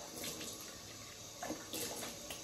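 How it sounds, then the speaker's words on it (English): Hot water splashed onto a face at a sink before a Friday shave, a steady close wash of running water with brief louder splashes partway through. "Put some hot water on my face."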